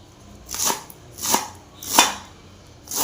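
A knife chops through cabbage on a board in a Tamil home kitchen, four evenly spaced crisp cuts about 0.7 seconds apart, close and clear with no talk.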